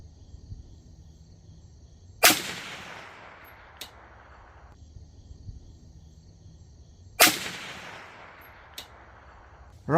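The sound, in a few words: gunshots from Bear Creek Arsenal 20-inch stainless .22 WMR rifle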